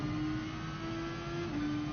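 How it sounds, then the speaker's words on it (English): A car engine hums and whirs steadily at a distance in the Gran Turismo Sport racing game at the Nürburgring GP circuit, quiet and continuous with a faint sustained tone and no talking. "No, it was just a random car driving around."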